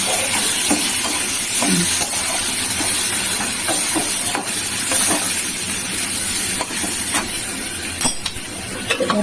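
Spices and chili powder sizzle loudly in plenty of hot oil in a pan for a mutton curry, a steady close hiss with scattered stirring scrapes and pops.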